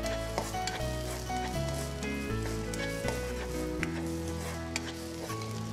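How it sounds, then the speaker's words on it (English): Garlic and chili padi fry in olive oil, a steady close sizzle with a few soft stirring clicks, while background music plays throughout. "First put in the garlic. So you fry the garlic"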